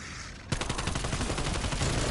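Rapid automatic gunfire with Shatter Blast exploding bullets erupts in Call of Duty Zombies, a sudden dense, loud burst of shots with crackling impacts following a quiet moment.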